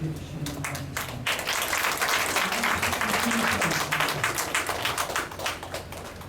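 A lecture-hall audience in a third-floor auditorium gives warm applause to welcome a lecturer, a steady, moderately distant patter of many hands lasting several seconds before it thins.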